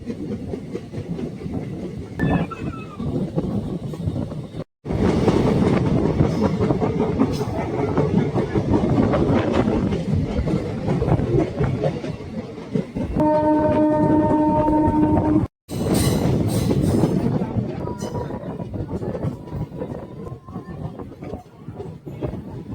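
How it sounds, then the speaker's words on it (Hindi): A 75272 DEMU passenger train on the Nawada to Patna run rumbles loudly with steady clickety-clack and hiss from inside the coach, broken by two brief dropouts and a sustained horn-like tone midway. "तो अब हमारी ट्रेन पहुंच चुकी है फजल चक रेलवे स्टेशन"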